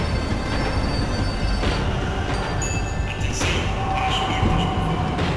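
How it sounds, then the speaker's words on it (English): Tram in the video game Max Payne 3 slowing down, with a continuous rumbling rail roar, metallic wheel squeals and clanks rising over it, and a few sharp brake screeches near the end. "The tram was slowing down, and I'd only just gotten on board."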